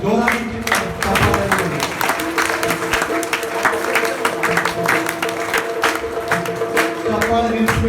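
An audience at a festival gathering at Shri Laxmi Venkatesh Math applauds loudly and steadily, dense clapping with some crowd noise throughout, a voice calling out briefly near the start.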